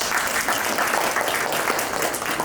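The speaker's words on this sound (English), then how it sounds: "Give John a round of applause." A crowd applauds steadily, dense clapping from many hands filling the room without pause.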